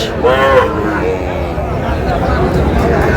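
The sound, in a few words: Sahiwal breed bull calves at a cattle market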